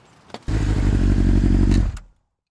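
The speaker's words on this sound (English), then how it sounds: "we're going to get on it, go out there, ride this motorcycle" An MV Agusta Brutale 1000 RS with a 998cc liquid-cooled inline four-cylinder engine roars close up in one loud, steady burst of about a second and a half before cutting off abruptly to silence.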